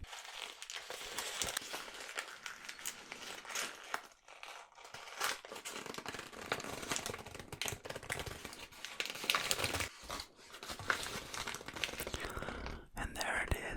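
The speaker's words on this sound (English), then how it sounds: "an uncrumpling of paper" A sheet of paper, D&D session notes, being slowly uncrumpled close up, a continuous crinkling and rustling with brief pauses, soft and intimate without any voice.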